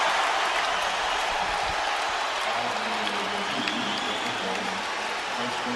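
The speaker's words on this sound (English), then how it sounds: "Listen to this crowd." Arena crowd at a Lakers basketball game roaring as Kobe Bryant heads to the free-throw line, a sustained wash of cheering and clapping that stays broad and steady, with some voices underneath.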